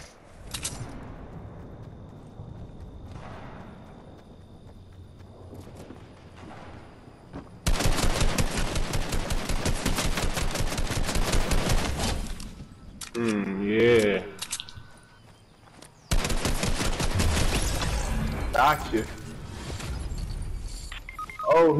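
Shotgun blasts in Fortnite come in loud bursts, several rapid shots in clusters between quieter stretches, with other game noises and talking mixed in.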